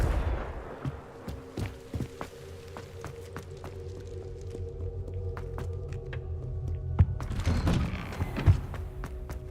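Confringo blasting-curse explosions in a video game: a string of sharp cracks and heavy thuds over a low rumbling bed and steady hum, with a louder, denser burst of blasts near the end.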